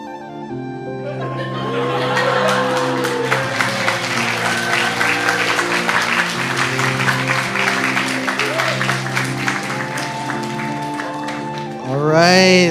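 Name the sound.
audience applause after a skit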